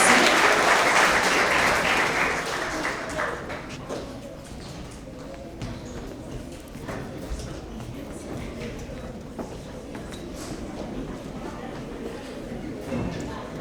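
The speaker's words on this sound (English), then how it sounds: "Let's give another round of applause for all of the Honesty Award winners" Loud applause from a crowd at a school award assembly at the start, fading into scattered clapping and murmuring voices with shuffling in the room.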